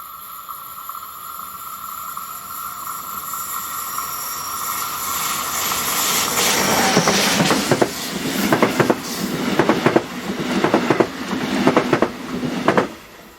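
Freight train 42915 from Hamburg to Vienna, headed by electric locomotive 185048, passes on the line. It builds from a distant hiss to a loud, close rumble with rhythmic clickety-clack of wheels over rail joints, and no voices.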